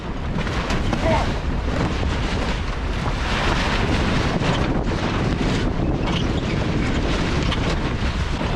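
A sail flaps hard on a sailboat in a roughly 50-knot gale, buried in loud, continuous wind roar across the microphone, with a few stronger gusts and rattles rising out of the rush.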